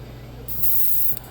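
A short burst of spray paint hisses through a comb onto a bluegill crankbait, a single close, steady spray lasting under a second over a low background hum.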